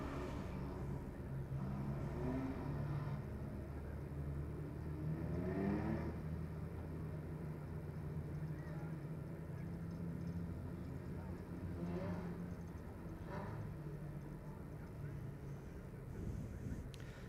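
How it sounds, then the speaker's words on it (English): Superstock cars at Eastern States Speedway, Blenheim, idle and rev steadily as they line up for a heat, a continuous engine drone with swelling throttle rises under wind noise and crowd ambience. "So here we go, stock cars lining up."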